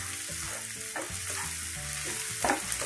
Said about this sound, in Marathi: आपला कांदा परतत आलाय